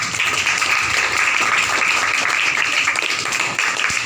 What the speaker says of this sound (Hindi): उन माता देवी स्वरूपा को हम ताली बजा करके सम्मानित करें।